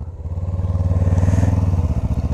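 A motorcycle engine running steadily and close by, with a throbbing low rumble that pulses evenly and swells slightly in the middle, heard alone with no talking.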